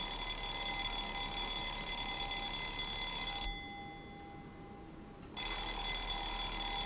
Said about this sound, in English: I was woken up by the noisy alarm clock.